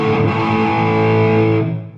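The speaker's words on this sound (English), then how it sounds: "So this guitar, this is a P90, it's a single coil, but it rocks because it sounds angry to me" Electric guitar through a P90 single-coil pickup gives an angry, distorted rock tone, one loud sustained chord ringing close and full before fading at the end, with no talking.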